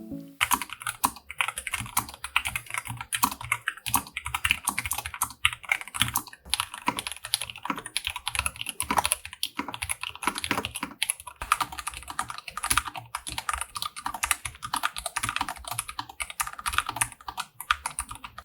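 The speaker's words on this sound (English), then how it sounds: "compare how the low-profile switches sounds against the standard cherry-style switches" Fast, continuous typing on a Fantech Super Maxfit Air99 keyboard with low-profile tactile brown switches produces dense, fairly quiet clicks and clacks close up, with no talking.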